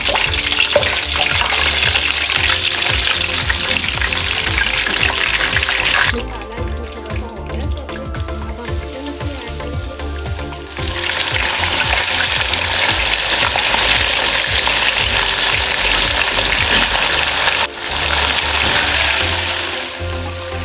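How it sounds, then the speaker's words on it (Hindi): Whole spices frying in ghee for home-made biryani, a dense loud continuous sizzle that dips briefly twice before surging back, with no talking. "ये 2 चम्मच हमने घी डाल दिया है, इसमें खड़े मसाले डाल देंगे।"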